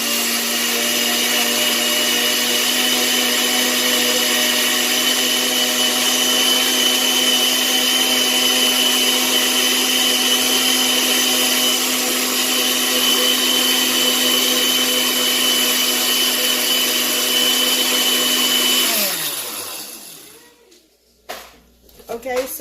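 An electric mixer blends aloe vera leave-in conditioner with a loud, steady motor whine that holds an even pitch for about nineteen seconds, then winds down and stops, followed by a few faint knocks.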